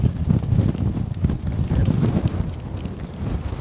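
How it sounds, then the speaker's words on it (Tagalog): Steady, loud wind buffeting the microphone by a long pier, a constant low rumbling roar with gusty fluctuations throughout. "Malakas ang hangin ngayon."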